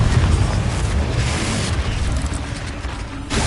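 Bombarda explosion spell cast in the Hogwarts Legacy game, a loud, sustained booming blast with rumbling low end that holds for several seconds before easing slightly near the end.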